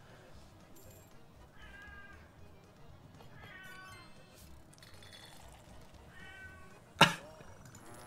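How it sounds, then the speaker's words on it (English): A cat meows several times at a distance in a quiet room, short plaintive calls spaced apart, followed by a sudden sharp clink. "my cat meowing in the background."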